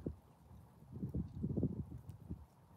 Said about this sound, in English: Listen, footsteps.